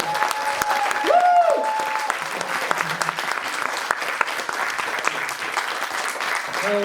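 An audience at a charity auction for the Great Orchestra of Christmas Charity bursts into sustained, loud applause, dense clapping filling the room with a brief tonal sound early on.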